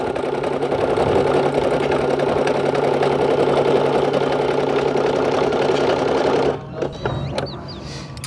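A portable embroidery machine stitching out a design outdoors by a waterfront, its steady rapid needle chatter loud and continuous before stopping abruptly near the end, leaving quieter ambient sound.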